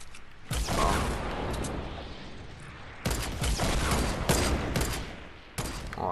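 A video game shootout with bursts of rapid gunfire and sharp shots, several loud close volleys separated by brief gaps, with mechanical clicks between them.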